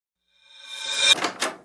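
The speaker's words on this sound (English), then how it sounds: "Open the door." A door swings open with a rising, squeaky creak that ends in two short clunks of the latch and frame, close and fairly loud against silence.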